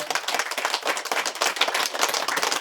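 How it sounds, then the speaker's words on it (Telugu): An audience at a Pyramid Spiritual Societies Movement gathering claps loudly, a dense, continuous burst of many hands applauding together throughout the short stretch. "ఒకసారి గట్టిగా చప్పట్లు కొడదాం"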